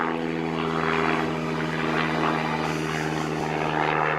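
A propeller airplane drones steadily and loudly throughout as a radio drama sound effect, with an even engine hum and no speech.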